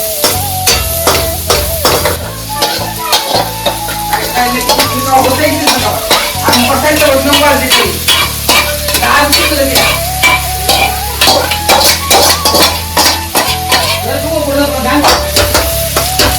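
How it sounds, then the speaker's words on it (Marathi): Onion fries in a pan for a chicken dish, with continuous sizzling under frequent sharp scraping and clinking of a utensil against the pan, close and loud, with a tonal hum running throughout. "कांदा लाल लालपण होईपर्यंत भाजायचा आहे"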